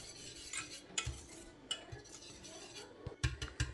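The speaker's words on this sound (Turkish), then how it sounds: "Ara ara üzeri kabuklanmaması için karıştıracağım." A spoon stirs pudding in a pot, with soft scraping swirls and a few sharper clinks of metal against the pot, irregular and close, quiet overall.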